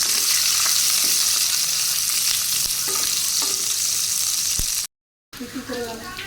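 Onion and slit green chillies fry loudly in a pan with dried chillies, a dense steady sizzle close by, broken by a few light stirring clicks, then a brief gap before the sizzle returns.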